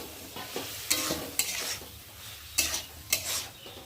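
Boiled taro stolons and prawns frying in a pan with mustard, sizzling under several sharp, separate clanks and scrapes as the spatula stirs against the metal.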